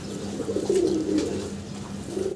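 Pigeons held for wholesale sale coo in a steady, low, throaty run that lasts a couple of seconds, close and continuous.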